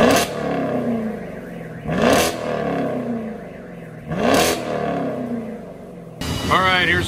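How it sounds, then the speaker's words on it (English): A Chevrolet Camaro SS on its stock exhaust in track mode revs up three times, loud and close, each rise falling back to a throaty idle, then a brief burst of voices at the end. "Camaro Super Sport. This is a stock exhaust."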